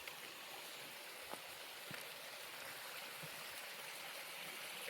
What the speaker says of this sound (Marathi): हा एक झरा